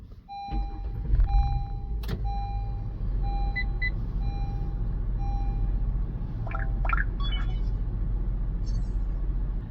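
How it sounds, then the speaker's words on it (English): A car engine starts and settles into a steady low idle, accompanied by a click and several short electronic dashboard chimes and beeps over the continuous rumble. "let's go ahead and start the vehicle"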